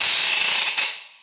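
A rattle is shaken in one loud, dense burst of rapid clicking that fades out over about a second, heard alone.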